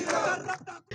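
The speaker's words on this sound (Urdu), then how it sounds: "گو نیازی کے نعرے بھی لگائے گئے" Pakistan People's Party supporters celebrate a Supreme Court verdict in Jamshoro Kotri, a crowd shouting slogans in a loud, dense burst of voices that cuts off abruptly within a second.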